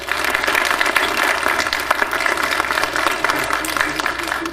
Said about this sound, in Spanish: les pido un aplauso para ustedes mismos